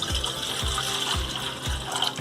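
Water is poured into a frying pan on a gas stove, a continuous splashing hiss under a row of soft, evenly spaced low thuds.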